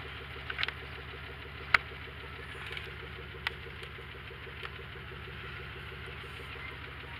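A car engine idles steadily at close range while warming up before a tuner test, a low even drone with a few faint clicks and taps over it.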